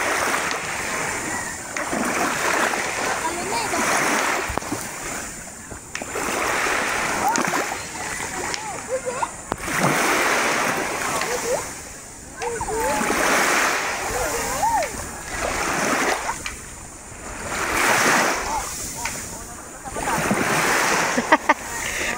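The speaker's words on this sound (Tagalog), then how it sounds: "May, gusto niya magpasag-pasag, May." Repeated bursts of splashing and thrashing water as a fresh fish struggles, close by, with people talking over the commotion throughout.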